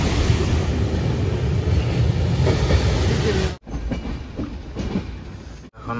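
A passenger train rolls toward Bandel station in West Bengal, a steady loud rumble of wheels and carriage noise with faint clickety-clack, broken by two brief sharp dropouts near the end.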